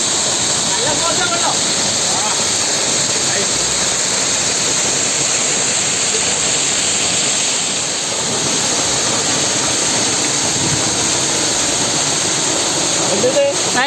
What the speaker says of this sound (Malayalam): വെള്ളം ഇങ്ങനെ താഴേക്ക് വീഴുന്നതിൻ്റെ കാറ്റ്